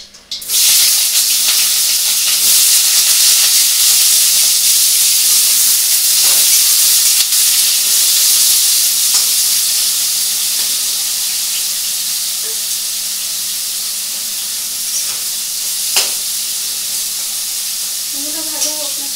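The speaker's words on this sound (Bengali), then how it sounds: "আগে বেগুনটা ভেজে নেব" Eggplant frying in a pan gives off a loud, steady, close sizzle and hiss that runs unbroken and eases slightly toward the end.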